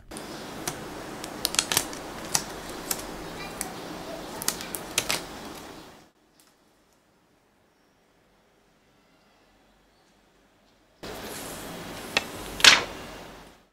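Protective plastic film is peeled off a Samsung Galaxy S4 Zoom in a run of close, crisp crackles and sharp ticks, then several seconds of silence before a shorter burst of crinkling.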